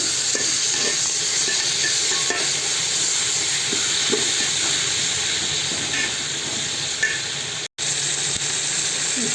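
Tomatoes go into a hot pan with turmeric as the dish of brinjal and tomato is cooked, giving a loud, steady hiss and sizzle that runs throughout with no pause, apart from one sharp break near the end.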